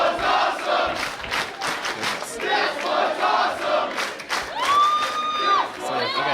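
A wrestling crowd cheers and shouts continuously with loud, energetic roars from many voices, punctuated by one sustained high whistle near the end.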